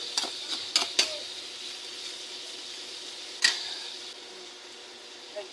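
A utensil stirs a pot of chicken broth for Ilocos-style mikki, making a few sharp clinks and taps against the pot over a quiet, faint background hiss, with no voices.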